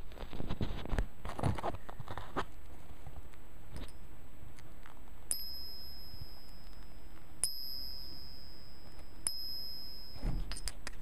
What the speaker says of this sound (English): Silver sounds like a long, a sweet silver bell sound